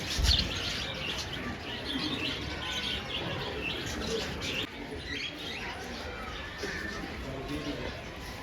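Birds and ducks in an aviary chirp and tweet in scattered bursts, fairly faint, beneath a murmur of people nearby.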